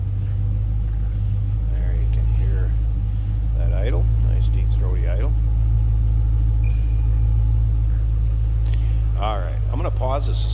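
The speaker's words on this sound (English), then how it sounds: "There you can hear that idle. Nice deep throaty idle." Deep, throaty idle from a 2005 Saleen S281 Ford Mustang coupe, a steady low rumble running throughout with faint talk and small noises over it.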